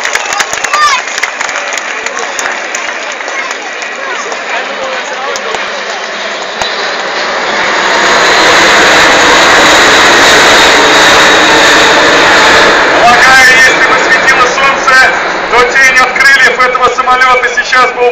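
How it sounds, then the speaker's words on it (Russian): An Airbus A380 airliner makes a low flyby at about 200 metres and just over 200 km/h at the MAKS 2013 air show, its broad jet roar swelling loud and steady over an applauding crowd. "Проход на самолете А-380. Высота 200 метров."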